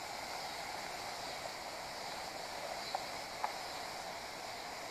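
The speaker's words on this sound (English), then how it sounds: "There's a pretty little brook through here." A small brook flows with a soft, steady watery hiss, faint and continuous, with a couple of tiny clicks and no talking.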